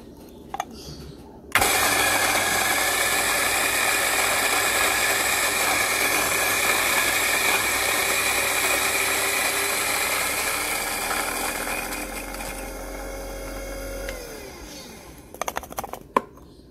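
Electric grinder milling coffee beans for an AeroPress brew, a loud steady whirring drone that starts abruptly, runs continuously for about twelve seconds, then winds down and stops, close up with no talking.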